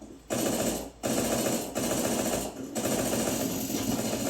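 Rapid automatic gunfire rattles in Counter-Strike 2 played on a Steam Deck, four sustained loud bursts separated by brief pauses.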